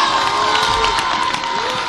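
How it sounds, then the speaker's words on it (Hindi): Loud audience cheering and applause at a stage show, a dense roar of crowd voices with shouts, whistles and clapping sustained throughout, close and full. "ये जब तक आपकी भरपूर तालियां नहीं होंगी हमें कैसे पता चलेगा कि ताहिर शाह साहब यहाँ हैं।"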